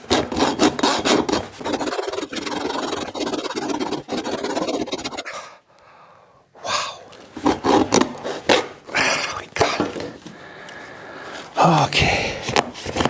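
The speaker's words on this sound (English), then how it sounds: "Luckily I had a hacksaw." Hacksaw cutting through a Shimoda modular camera backpack insert, rasping in steady back-and-forth strokes up close, with a short pause midway before the sawing resumes.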